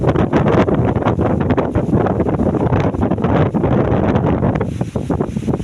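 Strong wind gusts through heavy rain outdoors, heard from under a tree, as a loud, steady roar and buffeting that continues throughout without pause.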